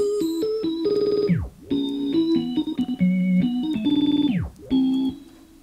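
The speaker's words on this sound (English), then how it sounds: "it did a tape stop, or it reversed it, it gated it, delayed it, whatever the case" Glitchy electronic beat processed by a dBlue Glitch plugin in FL Studio, with randomly switching effects: pitch-dropping tape stops, reversals, choppy gating and delay repeats, loud and alone in bursts.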